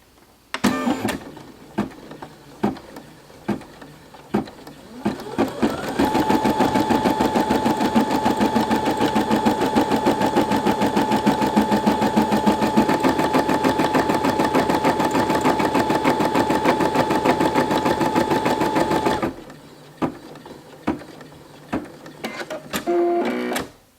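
A home embroidery machine runs steadily for roughly fourteen seconds, stitching a design into fabric floated on a hoop, its rapid needle hammering loud and close, with brief clicks and handling noises before and after.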